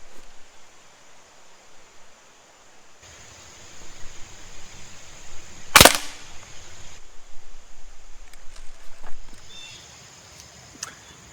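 An air rifle fires a single pellet at a paper target, a sharp, loud crack standing out against quiet background noise, followed by faint rustling and small clicks.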